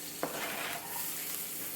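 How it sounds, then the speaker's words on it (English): Garlic hits hot olive oil seasoned with salt and pepper in a pan, giving a sharp clatter at the start, then a steady soft sizzle and frying crackle that carries on alone. "we got some oil cooking here, a little olive oil, with a little salt and pepper on it"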